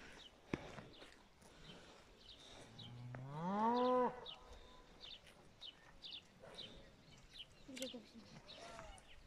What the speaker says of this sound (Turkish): Şurada da bizim inek var.